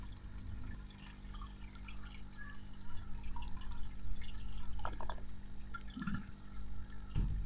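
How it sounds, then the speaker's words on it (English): Water gurgles and drips as an indoor aquaponics bell siphon drains, a steady low trickle with a few brief bubbling gulps near the end, close and moderately quiet. "The gurgling sound happened. Now you know the cycle is completed."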